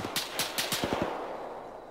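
Distant gunshots in Arma 3, a quick run of about six muffled cracks in the first second, then fading into quiet background noise.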